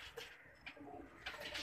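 A pigeon coos softly in a few low, rounded phrases at close range, with no talking over it.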